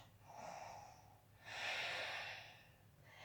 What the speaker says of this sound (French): Respiration Ujjayi.